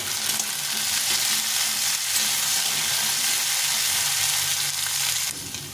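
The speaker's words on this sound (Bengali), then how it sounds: "বিনসগুলো ভেজে নেবো ভালো করে" Beans sizzling loudly in a hot pan, a constant crackling hiss with occasional stirring scrapes, easing off slightly at the very end.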